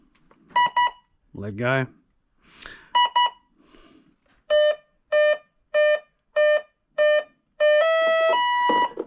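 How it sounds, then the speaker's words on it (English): A series of short, evenly spaced electronic beeps from an RC boat's speed controller, six in a row for a 6S battery pack, followed by a longer sustained tone, with brief speech at the start. "Hold it flat out, turn it on, wait for the beeps"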